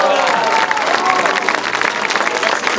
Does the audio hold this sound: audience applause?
yes